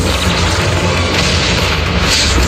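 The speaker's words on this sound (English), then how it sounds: "Explosions are becoming more frequent." Continuous rumbling booms and blasts from the video game Zenless Zone Zero, dense and loud throughout with no pause, like heavy explosions rolling close together.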